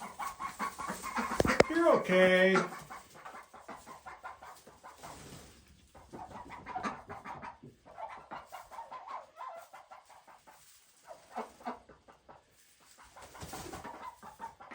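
White khaki Campbell ducks give soft, scattered quacks and chatter close by, mixed with brief bursts of louder calling, while a person speaks quietly now and then.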